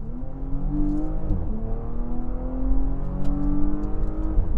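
A Porsche Panamera 4 E-Hybrid V6 (462 hp) in Sport Plus mode accelerates hard, heard from close up: a loud, steady engine drone climbs in pitch, dips briefly at a gear change, then keeps rising.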